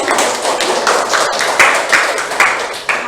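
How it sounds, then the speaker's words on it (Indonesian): A school group claps together in a brief, close and fairly loud burst, with a few sharper individual claps and taps standing out in a loose rhythm. "Terima kasih tepuk tangan dulu."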